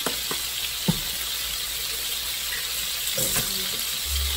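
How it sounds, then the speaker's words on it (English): A large pot of heavily salted pasta water at a full rolling boil gives a steady, faint hiss of bubbling, with a few soft clicks and knocks from the kitchen and no talking. "We are at a full boil"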